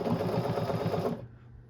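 A sewing machine runs steadily, stitching a circular cuff band onto a geometric hoodie in quick, even pulses for about a second, then stops, leaving a faint low hum.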